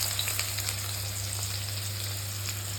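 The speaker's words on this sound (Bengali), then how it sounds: "তো পেঁয়াজটা একটু ভাজা হোক।" Onions frying in a pan with nigella seeds give a steady, dense sizzle that stays even and close throughout, with a constant low hum beneath and no voices.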